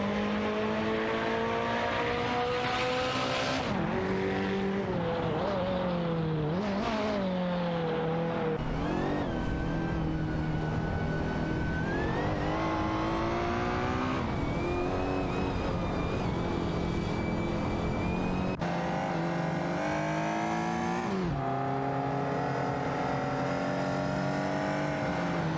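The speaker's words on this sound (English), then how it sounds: "Get ready for some epic AI race car action." AI-driven race cars in a racing video game, engines whining and revving continuously as they shift up and down through the gears, steady and loud with no talking.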